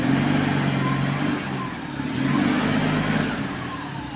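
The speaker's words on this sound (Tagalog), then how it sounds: "Sumisipo yung turbo." Vehicle engine revving with a turbocharger spooling, a loud close droning rumble that swells and eases in waves, with a faint rising whistle over the motor.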